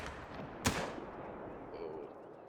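A single sharp rifle shot from a hunting game, theHunter: Call of the Wild, cracks over a quiet outdoor ambience and fades quickly, with a faint bird-like chirp afterward.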